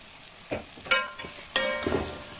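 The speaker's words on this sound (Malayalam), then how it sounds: "കടുകിട്ട് കറിവേപ്പില, വെളുത്തുള്ളി, ചീനമുളക്, വെളുത്തുള്ളി, ചീനമുളക്, കടുകൊക്കെ വറവ് ഇട്ടിട്ടെടുക്കാം." Mustard seeds, curry leaves, garlic and dried chillies tempering in hot oil for a bitter gourd pickle, soft crackling sizzle with a few spoon scrapes and stirring knocks, close and fairly quiet.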